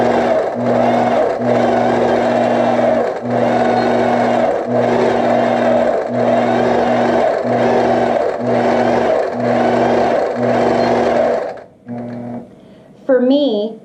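Longarm quilting sewing machine running with its stitch regulator on, a loud steady motor hum and rapid needle chatter in repeated bursts with brief pauses, then stopping near the end before a short whir.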